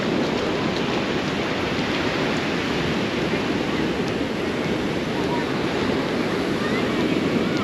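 Ocean surf rolls onto the sand beside the pier at Old Orchard Beach, Maine, a dense, continuous wash of breaking waves heard up close, steady and loud throughout with some wind rumble.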